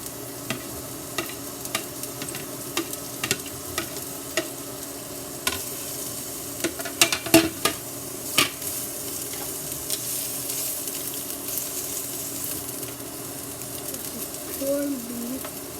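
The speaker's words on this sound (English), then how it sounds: "So in order, we'll just put this onions first, then the corned beef." Onions and corned beef frying in hot oil, a steady low sizzle broken by frequent sharp clacks of the spoon stirring against the pan, with the sizzle growing fuller in the second half.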